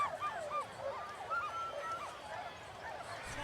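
Sled dogs at the start of the Iditarod sled dog race yelp and howl in rapid, excited, overlapping cries, moderately near, over a low outdoor background.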